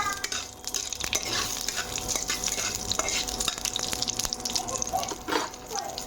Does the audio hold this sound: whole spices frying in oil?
yes